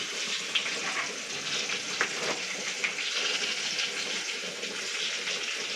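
Tomatoes dropped into a frying Bengali fish curry set off a steady, hissy sizzle with a few small crackles and pops, close and fairly quiet, with no talking.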